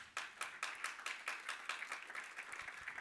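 A church congregation claps rhythmically in steady beats during a Spanish-language service, a fairly faint group clapping with no talk over it.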